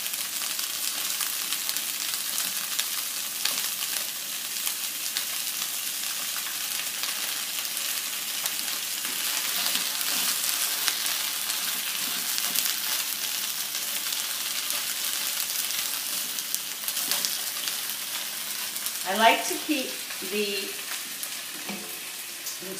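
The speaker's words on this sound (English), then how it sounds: "fry up my salami right in the same pan" Salami slices fry in a hot pan alongside cauliflower gnocchi, giving a steady, hissing sizzle with occasional stirring scrapes; a person speaks briefly over the cooking.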